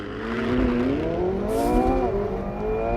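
A McLaren 720S Spider launches hard from launch mode, its turbocharged engine rising steadily in pitch through the gears with a close, loud, sustained roar and a brief hiss partway through.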